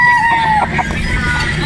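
A picomb Boston Roundhead broodstag rooster crows once in the first half, close and fairly loud, with a steady murmur of background noise and some talk beneath.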